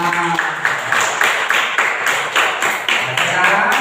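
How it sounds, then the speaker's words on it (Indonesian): A classroom of students applauds together, a burst of close, rapid, fairly loud hand claps that keeps a steady crackling texture throughout. "tepuk tangan semua"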